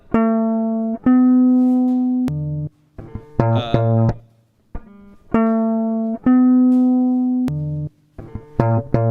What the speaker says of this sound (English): So that's replaced a section of the loop there.